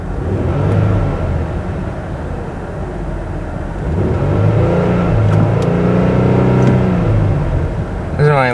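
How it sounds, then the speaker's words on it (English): A 2009 Ford Flex engine fitted with a K&N intake revs while parked, rising and falling in several swells of near, steady engine roar, with a voice talking briefly over it. "Doesn't really let you rev it that high."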